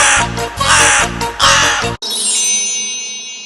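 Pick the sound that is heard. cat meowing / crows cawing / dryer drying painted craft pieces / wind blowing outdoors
crows cawing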